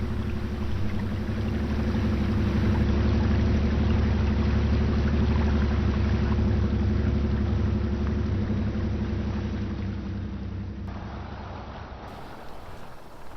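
A heavy truck engine in the Mud Runner game drones loud and steady as the truck plods through deep water, with sloshing, churning noise throughout and a slight fade near the end, no talk.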